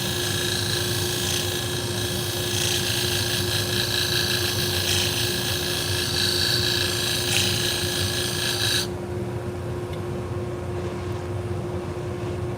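A motor-driven abrasive wheel whirs steadily while salon shears are ground against it, giving a bright, rasping hiss that stops abruptly near the end and leaves the motor hum running alone, with no talking.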